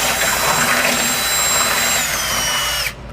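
Power drill with a large bit boring a hole for a trailer hitch bolt on a 1988 Toyota 4Runner, a loud steady close whine that cuts off abruptly near the end.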